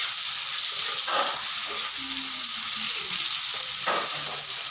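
Bitter gourd pieces fry in a pan with a loud, steady sizzle, broken by a few scraping stirs of a spatula against the pan; no one speaks.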